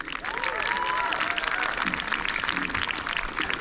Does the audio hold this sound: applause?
yes